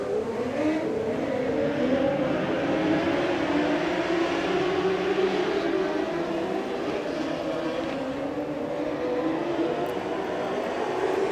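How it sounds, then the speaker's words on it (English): NorCal dwarf cars racing at speed on an oval track during a feature event, a continuous loud droning engine roar that rises and falls slightly as the pack passes, with no voices. "We are back to green with your NorCal Dwarf Car feature event."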